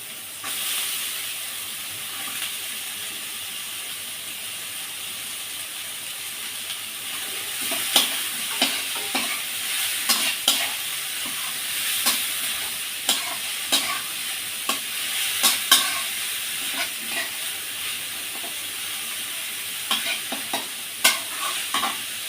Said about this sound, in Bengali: দেখুন আমার পেঁয়াজ রসুনটা বাদামি বাদামি করে ভাজা হয়ে গেছে। এবার আমি তরকারিগুলো দিয়ে দেবো।